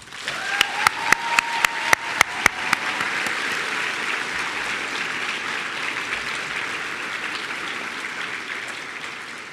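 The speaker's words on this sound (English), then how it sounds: "Would everyone please join me in a round of applause for these sponsors?" A crowd at a summer program closing ceremony breaks into loud applause for sponsors, opening with several sharp individual claps before swelling into sustained, dense clapping that carries on steadily.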